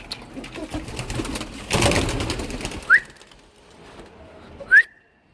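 Pigeons in the open with flapping wingbeats and a couple of short sharp whistle-like calls, over a faint outdoor background.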